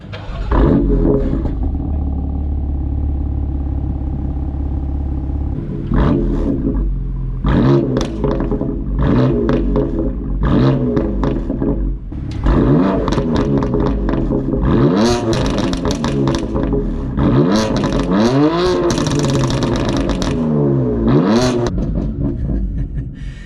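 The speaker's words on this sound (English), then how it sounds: "Let's get a little startup clip first." BMW F80 M3 with a stage 1 boot mod starting up, the engine catching with a loud roar, then repeated blips of revving with throaty exhaust, crackles and backfire pops, close and loud.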